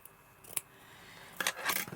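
Scissors snip through material for a handmade journal cover, a few sharp close cuts with a brief pause between them, plus light handling clatter and no talking.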